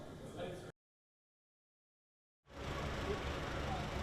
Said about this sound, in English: Amid the noise from the Lagos traffic